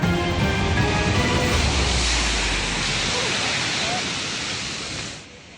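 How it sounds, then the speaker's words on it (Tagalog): Storm surge waves pound the shore at Virac, Catanduanes, as a super typhoon approaches, a loud, continuous roar of surf and wind rushing close by, easing slightly toward the end. "Walang humpay ang hampas ng alon pagising kanina ng mga taga-Virac, Catanduanes."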